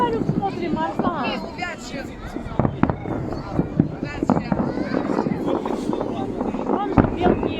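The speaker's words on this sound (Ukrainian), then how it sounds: "Подожди, мы салют смотрим, Арслан." New Year fireworks salute over the Naberezhnye Chelny embankment, with sharp bangs and crackling bursts scattered through the clip amid close wind buffeting and people chatting nearby.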